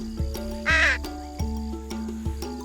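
A bird repeatedly cawing outdoors, a crow-like call rising clearly once above a steady background of tones and soft thumps.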